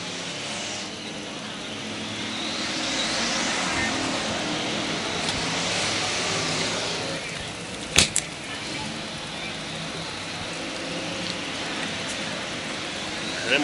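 Race cars lap a desert racetrack during Friday night qualifying, their engines a continuous distant roar that swells and fades as they pass, with a few sharp clicks.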